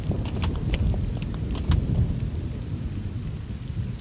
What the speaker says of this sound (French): Cet orage de fou.